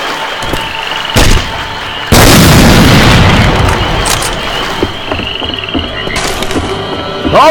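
A grenade launcher round detonates in Left 4 Dead 2 with a single heavy, close blast that rolls into a long, noisy rumble, following a smaller pop a second earlier.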